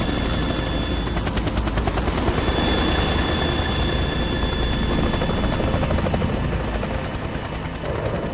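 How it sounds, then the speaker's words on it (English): A helicopter in the video game Metal Gear Solid 2 drones steadily and loudly throughout, a dense continuous rotor roar with a whining tonal hum on top, fading slightly near the end. "And there goes the helicopter."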